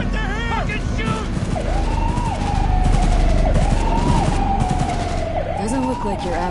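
Rapid gunfire crackles through a Cyberpunk 2077 shootout, loud and dense, with wailing police sirens layered on top and shouting voices over the chaos.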